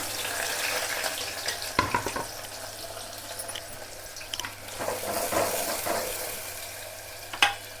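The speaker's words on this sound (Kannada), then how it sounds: "ಅದಕ್ಕೆ ಇವಾಗ ನಾನು ಉಳ್ಳಾಗಡ್ಡೆ ಹಾಕ್ತೇನೆ ನೋಡಿರಿ" Onions hit hot oil in a pot and fry with a steady sizzle, punctuated by several sharp clinks and scrapes of a utensil stirring, with no talking.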